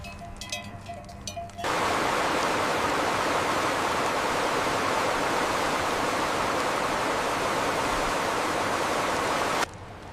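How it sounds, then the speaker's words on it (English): A steady, loud rush of a waterfall in a Swiss mountain valley at Lauterbrunnen fills the scene, constant and broadband, with a brief quieter stretch of other sound at the start and end. "Look at that waterfall, it's incredible."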